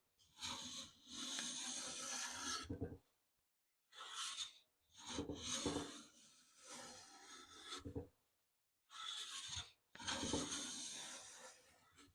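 A hand plane shaving beech wood: five separate rasping strokes, each a second or two long, with clear pauses between them, close and crisp with no voices.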